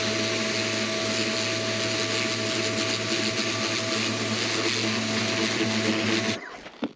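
A pressure washer sprays an air filter at close range, a loud, steady hissing roar with a constant motor drone underneath, which cuts off abruptly near the end.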